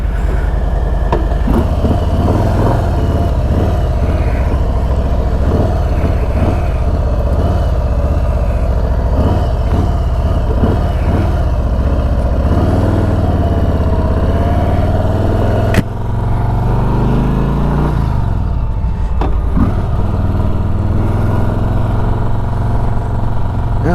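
A 2020 Harley-Davidson Street Bob motorcycle rumbles steadily while being ridden, its low engine drone loud and continuous, with pitch shifts as it changes speed and a brief dip midway.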